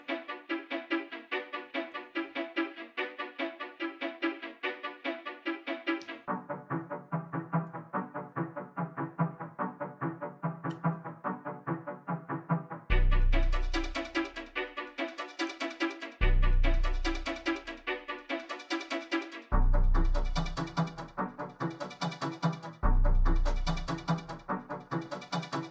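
A quantized 16-bar MIDI loop plays back in a freeware music production setup: a steady sustained synth pattern shifts pitch midway, then deep booming kick hits land at regular intervals under it, with no talking.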